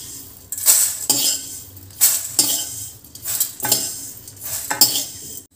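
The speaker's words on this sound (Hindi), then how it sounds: "देखिए कितना अच्छा आवाज़ आ रहा है, यानी इस मोमेंट में ये बन चुका है, अच्छे से भुन गया है।" Whole spices for homemade garam masala, including cardamom, black pepper, cloves, star anise, shahjeera and cinnamon, being dry-roasted in a pan, with repeated scraping stir strokes and a light sizzle, close and steady, no talking.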